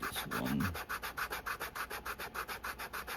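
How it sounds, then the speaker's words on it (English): A leather wallet's edges are sanded by hand with 120-grit sandpaper. Quick, rhythmic back-and-forth rubbing strokes, about five per second, sound close and fairly quiet, with no talking. "we'll sand these off"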